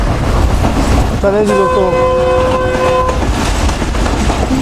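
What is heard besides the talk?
Pak Business Express train moving with horn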